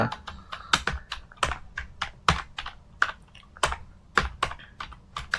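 Steady, close typing on a computer keyboard, with quick clustered keystrokes and firmer single clacks sounding alone.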